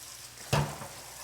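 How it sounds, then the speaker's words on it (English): Lobster hits a pan of butter and garlic with a sudden close burst of sizzling and a brief stir, then settles into a soft, steady frying hiss. "you're just going to saute that up real quickly"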